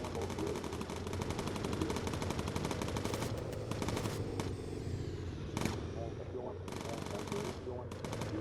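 Bomber guns in Bomber Crew fire in long, rapid, dense bursts of machine-gun rattle. The shooting is loud and nearly continuous, with brief gaps, under occasional speech.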